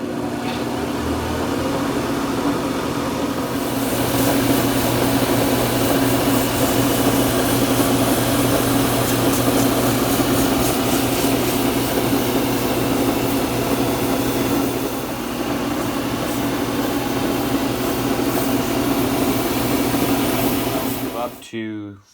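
A wood lathe spins a purpleheart blank while it is sanded with 220-grit paper, giving a loud steady motor hum with a sustained tonal whine and a rough friction hiss before it winds down abruptly at the end.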